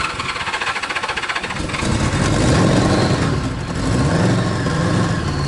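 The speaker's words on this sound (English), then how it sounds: "Just wanted to prove to you guys the bike does run on all 4 cylinders." Engine of a 1975 Honda Goldwing GL1000 motorcycle idling on all four cylinders, starting with a rapid pulsing putter and rising into a fuller, louder running tone, close by with no talk.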